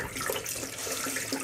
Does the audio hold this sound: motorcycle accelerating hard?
no